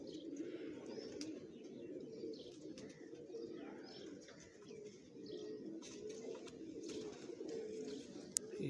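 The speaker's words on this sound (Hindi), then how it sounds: "ये है जी कबूतर" Low, soft cooing of a Mohar pigeon repeats steadily, fairly quiet, with faint chirps and light background noise around it.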